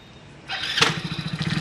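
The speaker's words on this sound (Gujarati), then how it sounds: "બાઇક ચાલુ કરી દીધું છે।" A motorcycle just refuelled with petrol kicks into life with a sudden burst, then settles into a close, steady, pulsing idle.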